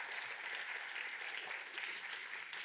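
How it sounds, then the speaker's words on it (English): Audience applause following a classroom chemistry demonstration of lime (calcium oxide) reacting with water, a steady dense patter of clapping filling the whole stretch, moderately loud and even, with no talk over it. "I think a round of applause there"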